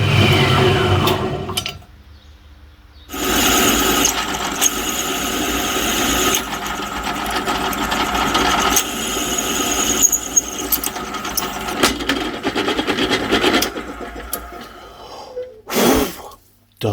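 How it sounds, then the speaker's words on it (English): A power drill whines in several bursts while drilling parts for an engine stand, rising and falling in pitch with short pauses between, close and fairly loud. "I'll drill those."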